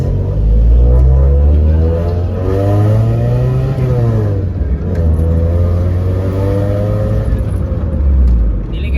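A Nissan Sentra B13 with a 1.4 engine pulls away in first gear, its revs climbing in rising sweeps, easing off, then climbing again, loud and close inside the car.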